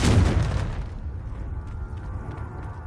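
A Confringo blasting spell explodes in Hogwarts Legacy: one loud, close boom bursts at the start, then decays into a rumbling tail that fades over the next couple of seconds.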